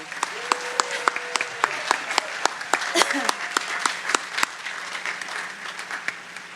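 An outdoor beach concert audience applauds veterans with scattered, distinct claps ringing out at an uneven pace, while voices murmur underneath.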